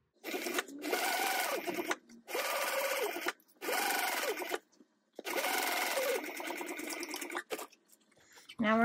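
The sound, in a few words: sewing machine stitching a tote bag seam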